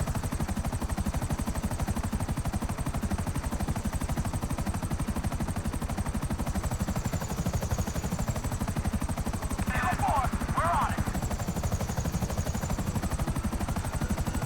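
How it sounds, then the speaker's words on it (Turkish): A police helicopter in the video game GTA 5 drones steadily throughout under dense, loud game noise. Brief bursts like gunfire cut in near the end. "Hala beni yakaladılar. Helikopter geldi."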